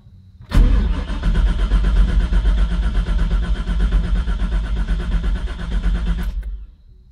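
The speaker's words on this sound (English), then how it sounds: "It's actually cranking over pretty good." LQ4 V8 engine cranking over with the spark plugs in during a Third-gen swap build, a loud rhythmic starter churn that starts abruptly, runs steadily for about six seconds and then stops, heard close with no talk.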